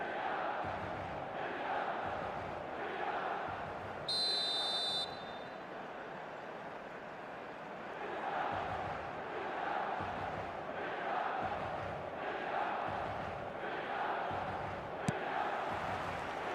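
Stadium crowd buzzing at San Siro in an eFootball match, a steady dense roar of thousands of fans with rising and falling swells across the whole stretch, a brief electronic tone and a sharp click partway through.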